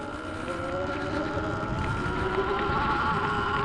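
Sur Ron X electric dirt bike being ridden, a quiet, steady electric whine with a continuous motor hum and rushing wind noise throughout.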